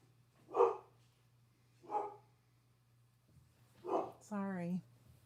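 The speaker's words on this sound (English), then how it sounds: "Ooh, now he's inside barking." A dog barks indoors in three short, separate barks spaced about a second or more apart, heard over a low steady hum, followed by a brief whining sound.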